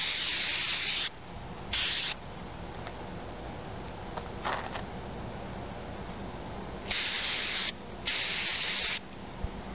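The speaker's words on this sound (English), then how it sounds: "Okay, now they're painted, and I'll let that dry, and I'll give it a second coat" Aerosol paint sprayed onto plastic RV door stopper holders in several bursts of steady close hiss, with a long blast early on and two longer ones near the end, separated by quiet pauses.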